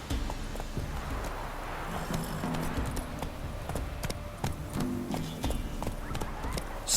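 Roach, the horse in The Witcher 3, trots with crisp, rapid hoof clip-clops and lets out a whinny, with scattered game effects and a faint voice in the mix.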